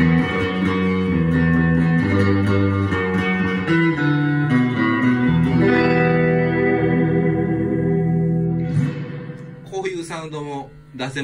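Electric guitar played through a Milkman Sound The Amp pedal-style amplifier with reverb rings out in loud, sustained chords and notes, then drops to quieter picked notes near the end.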